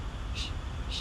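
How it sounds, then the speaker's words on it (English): Two forceful exhales through the mouth during yoga breathing, like blowing out a candle. Each is a short breathy puff, close and distinct, about half a second apart. "this breathing is like blowing out a candle"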